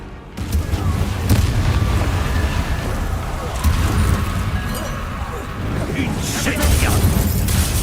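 Incendio fire spell cast during combat in Hogwarts Legacy, a continuous roaring, booming burst of magical fire under busy battle noise with rumbling low end throughout.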